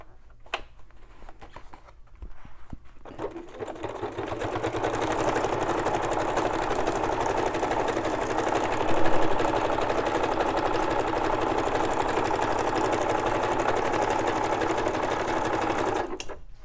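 A sewing machine zigzag-stitches around a junk journal cover, starting with a few clicks before settling into a steady, loud, continuous whirring hum that runs until an abrupt stop near the end.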